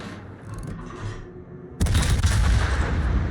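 Warship guns in a naval video game fire at a Des Moines cruiser's target: a rumbling lead-in gives way to a sudden loud broadside blast that keeps booming and crackling to the end, with no talk.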